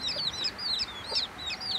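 Chickens and small chicks cluck and peep in quick repeated bursts at moderate distance, a busy, thin chattering with no talk over it.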